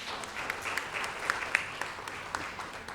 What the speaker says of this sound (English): Please give a big round of applause for her.